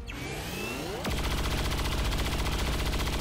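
Gunfire in the video game XCOM 2, a loud sustained rapid-fire rattle, like an automatic weapon, that kicks in after a rising whoosh and runs steadily to the end.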